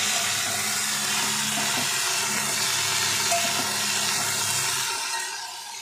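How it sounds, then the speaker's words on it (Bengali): Okra (bhindi) frying in a pan makes a loud, continuous hiss that holds steady and then fades toward the end, with no one speaking. "ভেন্ডি ভাজা হচ্ছে।"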